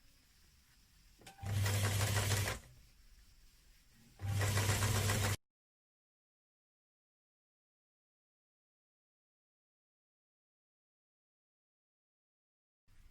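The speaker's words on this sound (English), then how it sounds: "Then I will take it to my machine again. I will just sew it around." Sewing machine stitching around the edge of an Ankara fabric cap, heard as two close, steady motor runs of about a second each with a short pause between them, followed by silence.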